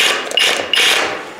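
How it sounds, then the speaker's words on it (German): An SDS hammer drill with a 6 mm bit bores into concrete for a drywall ceiling hanger, a loud, continuous, close-up rattling roar that surges and eases slightly throughout. "da wird ganz einfach ein 6er Loch jetzt gebohrt"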